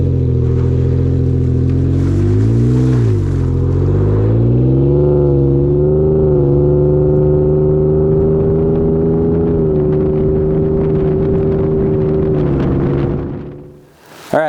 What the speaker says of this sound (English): me pulling onto the highway, so you can kind of get an idea of how it sounds as you would normally pull onto the highway